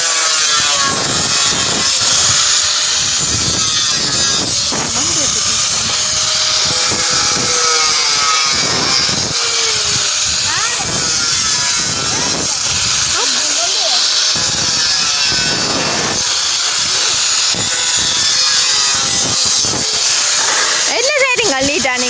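Wood is cut with a saw in steady, rasping back-and-forth strokes, loud and close, with people talking over the cutting.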